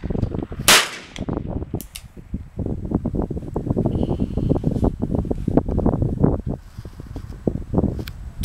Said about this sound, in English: Finger off the trigger until you're ready to shoot.